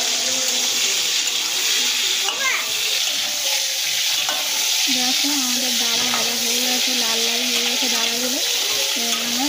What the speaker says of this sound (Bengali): এবার আমরা কাঁকড়ার হাত পাগুলো ভেজে নেব।